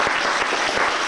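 A room full of guests applauds Henk Heijsens at a farewell gathering, a short burst of dense, lively clapping with no talking.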